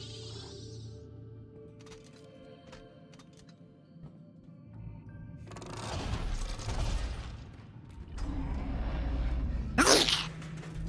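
A single sharp sneeze bursts out near the end, loud and close, following shuffling mechanical game sounds and creaks from a Dead Space 2 play session.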